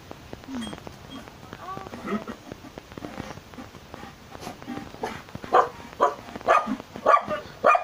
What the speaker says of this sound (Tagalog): Nabawaw pa ang aking aso.